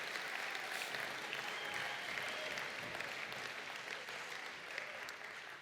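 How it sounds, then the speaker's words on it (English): An audience at a Young Farmer of the Year awards night applauds, a dense, steady clapping that fades slightly toward the end. "A round of applause for the Agri Kids."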